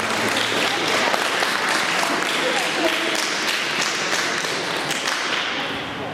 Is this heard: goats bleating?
no